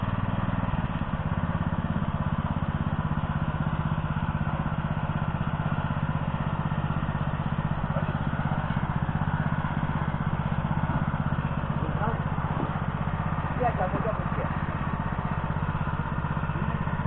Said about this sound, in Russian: Едем косить траву на роторной косилке «Заря»